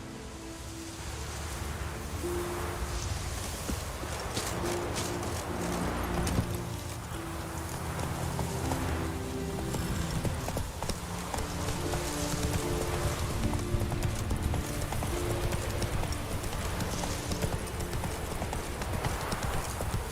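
Roach, a horse in Witcher 3, gallops with rapid rhythmic hoof clip-clops that run steadily throughout, set against a soft rain-like wash of ambient noise, no speech over it.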